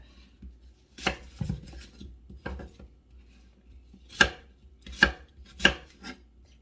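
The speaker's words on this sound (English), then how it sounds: "I just chop into the apples like this, coarsely chop them, watch the fingers" Knife coarsely chopping apples on a cutting board while making apple butter: a few scattered close thuds early on, then three sharp, loud chops spaced roughly a second apart.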